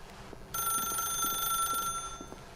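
A telephone rings in The Stanley Parable video game, a steady bright electronic ring that starts abruptly and holds for about a second and a half, then cuts off, with faint background sounds around it.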